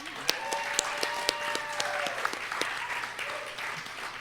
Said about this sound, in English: can we get a round of applause for the Factory Obscura staff?